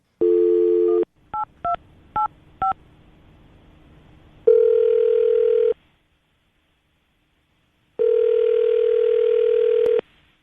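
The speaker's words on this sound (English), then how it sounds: "We're going to give her a call right now, see if we can get her on the phone" Telephone line sounds during a radio show call: a dial tone, a quick run of keypad dialing beeps, then two long ringback tones separated by a pause, clear and alone.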